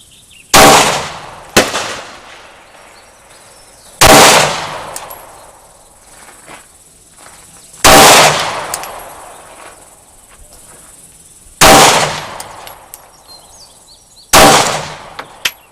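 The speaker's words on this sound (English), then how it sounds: "Let's see what he can do with 5 shots in the magazine" A Glock 43 pistol loaded with five rounds fires at a 10-yard outdoor target, giving sharp, loud single shots with pauses of a few seconds between them, each ringing out briefly over quiet background.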